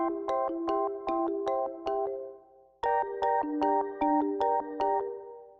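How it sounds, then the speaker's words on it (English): Rhodes electric piano run through an Infundibulum gate sequencer plugin, chopping sustained chords into rapid rhythmic pulses, with a short break before a second chord pattern starts, clear and alone without talk. "Right, so this is a kind of like a gate sequencer."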